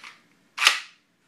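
The removable carrying handle of a Magpul FPG slides off with two quick plastic clicks, a faint one then a louder sharp snap, close and alone.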